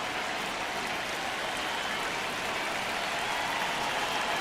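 A stadium crowd in the baseball video game MLB The Show 26 gives a steady, dense roar of cheering and applause-like noise that holds even for several seconds, with no voices standing out.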